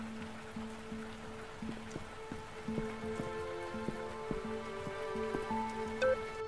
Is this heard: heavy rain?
yes